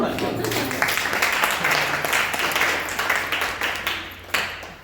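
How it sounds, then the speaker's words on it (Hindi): A church congregation applauds during a Sunday service, a dense wash of clapping that swells and fades across the whole stretch, with speech mixed into it. "तालियां"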